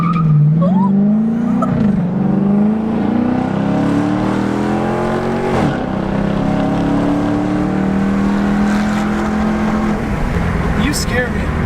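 A Dodge Charger's engine revs hard as it accelerates, its deep roar climbing steadily in pitch through the gears, loud and close from inside the car, with people talking over it.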